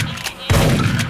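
Shotgun in the video game Dead Effect, a single loud close blast after a brief quieter lead-in, its boom ringing out to the end.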